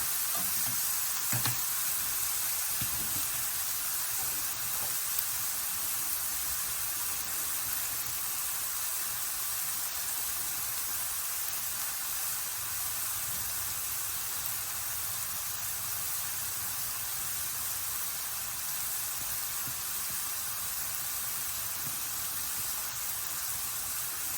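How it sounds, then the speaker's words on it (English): Mushrooms fry in a pan, giving off a steady, soft hiss and sizzle with a few faint stirring clicks, continuous and close, with no voices. "So we're going to cook these until the mushrooms start looking dry."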